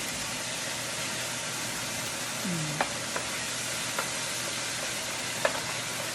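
Meat frying in its own rendered fat in a pan, a steady sizzle throughout with a few faint clinks and taps of a utensil against the pan.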